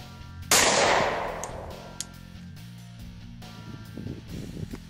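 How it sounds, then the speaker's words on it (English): A single sharp 357 SIG pistol shot fired at a bulletproof vest cracks loudly, then rings off in a long decaying echo, followed by quieter rustling. "we just got done shooting the 357 SIG, dead center mass"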